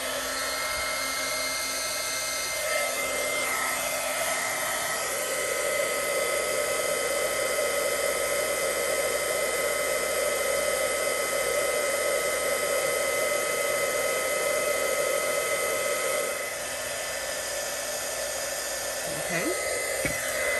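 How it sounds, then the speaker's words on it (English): A heat embossing tool blows hot air steadily over embossing powder on a handmade birthday card, a continuous loud whirring fan hiss held close for about twenty seconds with no talk. "with our heat tool."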